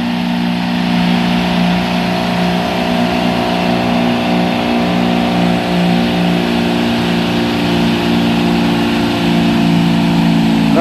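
A tanker truck's large diesel engine roars loudly and steadily close by on an uphill climb, revving hard with a deep throbbing drone that holds throughout.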